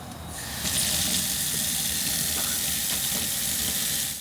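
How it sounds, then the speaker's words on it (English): Water pours steadily from an off-grid sink faucet, a loud continuous rushing hiss that swells in within the first second and then holds with no talk. "Turn on the water."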